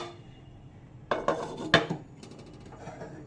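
A metal pan set down on a gas stove burner while making bread chicken pizza, giving a few close clanks and scrapes of metal in quick succession, followed by faint rattling.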